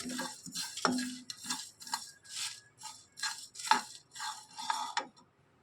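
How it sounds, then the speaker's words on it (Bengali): Dried red chillies and fennel seeds are dry-roasted in a pan for a raw mango pickle, with light scraping and clinking of a spoon against the pan in an irregular rhythm and short pauses between strokes, close and fairly quiet. "দুটো শুকনো লঙ্কা আর এই যে মৌরিটা ছিল এগুলো সব একসাথে আমি ভালোভাবে ভেজে নিচ্ছি।"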